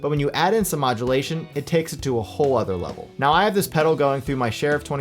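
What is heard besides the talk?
No everyday noises stand out.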